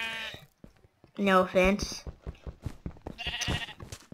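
A sheep in a video game lets out a brief bleat between stretches of a player talking.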